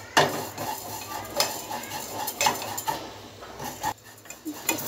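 Vermicelli fried in ghee and stirred in a pan, a spoon scraping and tapping the metal in irregular strokes over a soft sizzle, close and moderately loud.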